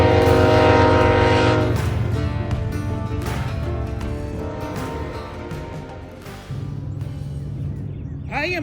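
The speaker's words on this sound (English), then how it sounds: "where the trains thunder continuously throughout the day" Trains rumbling through historic downtown Cordele, Georgia, with loud sustained low tones and broad mechanical noise filling the whole stretch, easing briefly before swelling again near the end.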